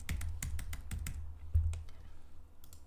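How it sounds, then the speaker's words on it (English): Typing on a computer keyboard: a quick run of crisp, close key clicks, then a pause and a few scattered final taps. "Okay, I'll just type something in here."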